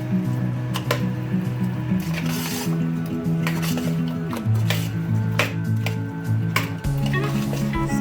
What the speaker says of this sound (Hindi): अब इसको हम अच्छी तरह मिक्स करेंगे।